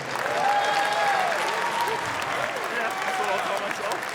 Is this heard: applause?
yes